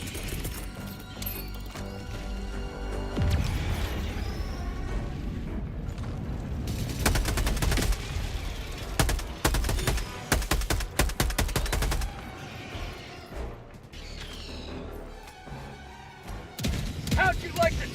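Sentry turrets in the video game Helldivers II unleash heavy, rapid automatic fire in loud bursts with mechanical clatter and explosions, while a voice talks over parts of the action.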